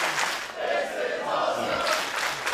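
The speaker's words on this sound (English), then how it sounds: "Crowd chanting, this is awesome" A wrestling crowd at an event in Perth chants in unison, a loud, rhythmic mass of voices filling the venue, with no commentary over it.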